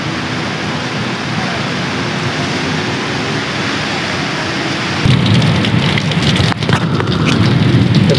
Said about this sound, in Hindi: तो गाइस ये चेक करें बारिश कितने मज़े की लगी हुई है।